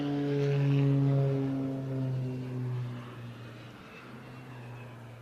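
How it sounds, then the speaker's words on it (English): A low-flying aircraft at an airshow roars past with a strong droning engine tone that swells early and slowly fades and shifts pitch as it moves away, heard alone without voices. "Great to see the aircraft so low"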